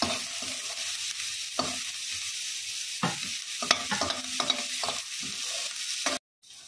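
Vegetables and pakoda pieces sizzle steadily in hot oil in a pan while a spoon stirs and scrapes, giving repeated knocks over a continuous fry, then the sound cuts off abruptly at the end.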